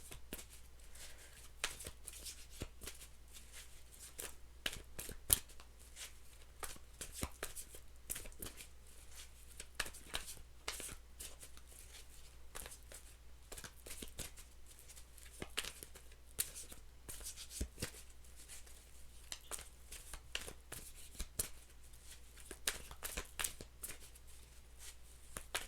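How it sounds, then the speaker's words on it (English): Tarot cards shuffled continuously by hand, a faint, quiet patter of small clicks and slides repeating unevenly throughout with no talking. "2 more shuffles, they said."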